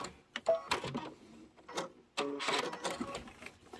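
Short bursts of machine stitching sewing Kimberbell Cuties quilt pieces together, a close, rapid mechanical chatter that stops and restarts with quiet pauses between runs.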